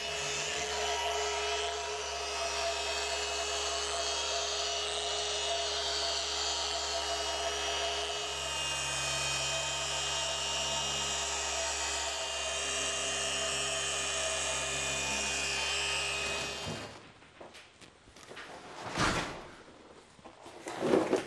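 A machine polisher works the paint on a 1929 Ford hot rod, giving a loud, steady whirring drone for about sixteen seconds before it cuts off, followed by a few scattered handling knocks.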